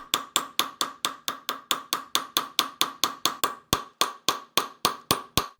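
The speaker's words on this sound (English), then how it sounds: "After that, it was just a matter of smacking with a hammer," A hammer smacks thick-gauge silver sheet in a fast, even run of about twenty sharp metallic strikes, each ringing briefly before the next, close and alone.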